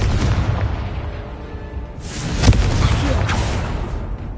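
Booming blasting-spell explosion from Hogwarts Legacy, a wizarding video game: a heavy burst erupts midway and rolls out with a long crackling tail over steady ambient rumble.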